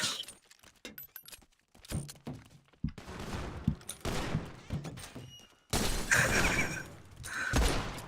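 Gunfire in a GTA roleplay game, rapid bursts of sharp shots and a louder sustained volley near the end, with scattered clicks and thuds in between.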